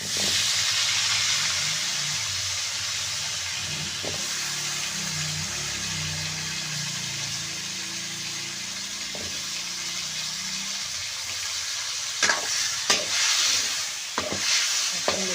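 A continuous hiss of drumstick pods steaming and simmering in a pot, with occasional clanks of a utensil toward the end.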